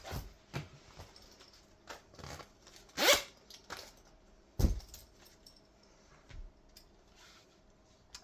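Zipper on an Eberlestock EMOD frame pack being handled during setup, with a few short zip pulls and rustles mixed with jangling clip and adapter clicks, close and fairly quiet.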